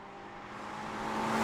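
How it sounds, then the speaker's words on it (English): A turbocharged Ferrari California T engine hums steadily and gradually swells louder, a smooth droning note building over a short stretch with no talking. "Another piece of wizardry is how Ferrari have managed to make this turbo-powered car sound"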